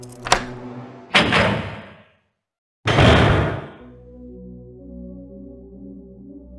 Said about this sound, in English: unlocked the door, and entered.